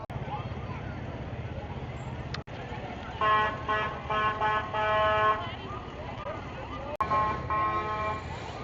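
Short, high-pitched horn beeps from a Smart car sound in a few bursts amid traffic and people talking nearby.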